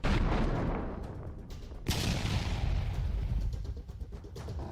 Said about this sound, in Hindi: रूसी सेना तोपों से फटाफट गोले दाग रही है।